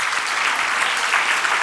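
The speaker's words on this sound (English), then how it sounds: "So a big round of applause for all of you." Dense, steady applause from a summit audience at a management event, a brief uninterrupted burst of many hands clapping together.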